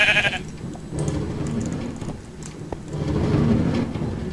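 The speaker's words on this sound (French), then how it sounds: "Je vais mettre un mouton." A sheep in Minecraft bleats a few times at moderate volume over low game ambience, with no voices present.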